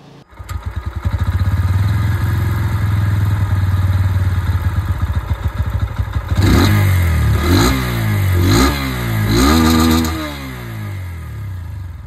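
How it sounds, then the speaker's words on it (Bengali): A Bajaj Pulsar N125 motorcycle exhaust, close and loud, idling with a steady low thrum, then revved several times in rising and falling bursts before dropping back and cutting off. "এবার আপনাদেরকে আমি এখানে পালসার N125 এর যে আওয়াজটা, এটা শুনিয়ে দিই"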